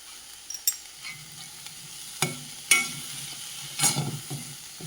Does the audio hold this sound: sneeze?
no